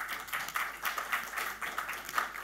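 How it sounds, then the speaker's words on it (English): Applause from a seated audience for a panel at a mining investment event in Hong Kong, a steady wash of many hands clapping with a pulsing rhythm, moderately distant and continuous throughout. "big round of applause for our panelists today"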